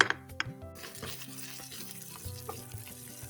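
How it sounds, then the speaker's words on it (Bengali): Onions frying in a pan for a kalijira (black cumin) bharta, a steady close sizzle with scattered crackles and faint stirring clinks, no voices. "এই তো পেঁয়াজগুলিও কিন্তু ভাজা হয়ে যাচ্ছে"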